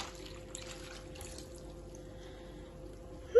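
Water poured back into a cooking container while making a pasta bake, a steady low trickle and splash running throughout, with a louder knock at the very end.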